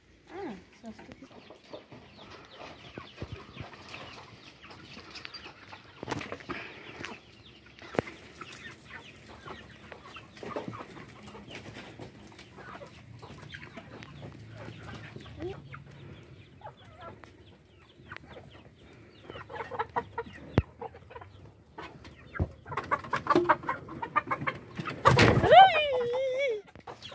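Chickens and a rooster cluck softly on a farm, scattered low clucks and fowl calls under intermittent people's talk, growing busier and louder near the end with a sharp squawk.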